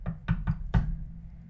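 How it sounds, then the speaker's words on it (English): Four hollow knocks on metal in an uneven rhythm, a quick pair then a gap and a heavier final rap, close and moderately loud in an otherwise quiet space. "Now that knocking sounds like it's on metal, and it sounds like it's above you."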